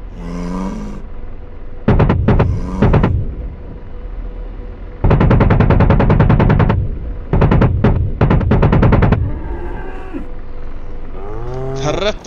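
Apache gunship cannon fire in the DCS combat flight simulator, several rapid bursts of loud rattling shots separated by pauses, with cattle mooing from the game before and after the bursts.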